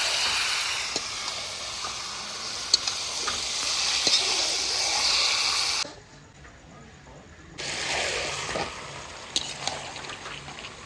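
Goat and chicken meat sizzles steadily in a pan while being stirred, with a hissing fry and occasional scraping clicks; the sizzle briefly drops away to near silence midway before resuming.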